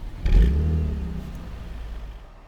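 A 2013 Audi S4 engine gives a quick, close rev that swells and then slowly fades back toward a low, smooth idle rumble.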